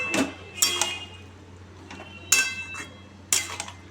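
Kabuli chickpeas being stirred in a pan produce several separate bursts of metallic scraping and clinking from the spoon against the pan, spaced by brief quieter gaps, close by and with no voices.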